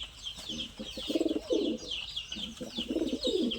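A fancy pigeon with grown chicks coos near at hand in repeated throaty, rolling phrases, steady and fairly loud, against faint higher chirps in the background.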